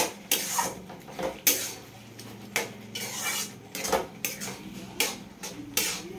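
A pan of banana flower curry seasoned with ground cumin being stirred, the spoon scraping and knocking against the metal in irregular close clinks and clatters, with no talking.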